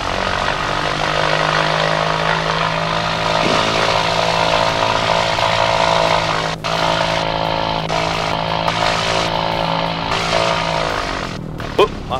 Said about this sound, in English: All right, right engine coming up.